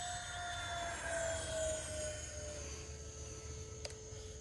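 Freewing L-39 Albatross RC model jet with an 80mm ducted fan flying past, a steady whining hiss whose pitch slowly falls, moderately distant over low rumbling background noise.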